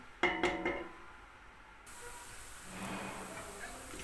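A few clinks against a pan, then a quiet, steady sizzle of onions sautéing for a meatball and pea stew.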